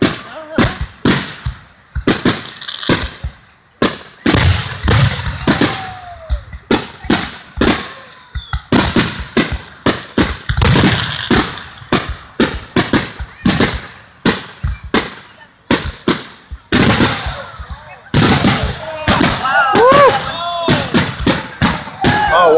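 Fireworks at a 4th of July celebration burst in a loud, rapid barrage of booms and crackles, with whistling rockets and sputtering sparks mixed in, close by and nearly continuous across the stretch, with some voices underneath.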